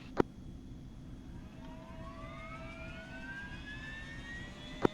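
Jet engine of an aircraft in the game ArmA 3 spooling up, a steady roar with rising whine tones sweeping upward across the clip, bracketed by two sharp clicks near the start and end.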